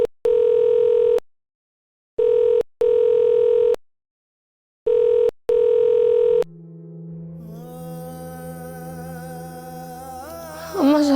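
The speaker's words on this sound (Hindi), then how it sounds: "अम्मा साजिद फोन नहीं उठा रही।" A telephone rings in steady, loud electronic tones, each lasting about a second, in a regular on-off pattern, with no one picking up. The rings give way to a softer, wavering musical drone.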